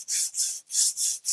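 A wooden sign is hand sanded in five rhythmic, raspy back-and-forth strokes with brief pauses between them, close and fairly loud with no talking.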